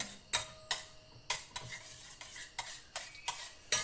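Yeast being stirred into a flour mixture in a bowl for bhatura dough, giving a series of about nine light scraping, clinking strokes at a steady rhythm, close and fairly quiet with no talking.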